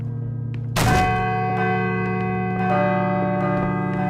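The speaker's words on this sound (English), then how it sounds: "I should let the bell finish ringing first." A large bell rings in the horror video game Call of Cthulhu: Dark Corners of the Earth, struck once with a heavy clang and then humming and resonating with a long sustained tone.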